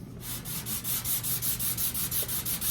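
A sanding block scrubs back and forth across the bedside panel of a C10 Chevy truck during bodywork, a close, even rhythm of about a dozen raspy strokes in quick succession with no talking.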